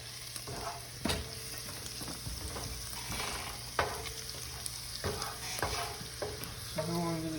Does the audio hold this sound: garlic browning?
yes